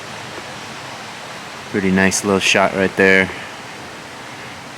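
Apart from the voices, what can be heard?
water flowing heavily at Lake Padden drainage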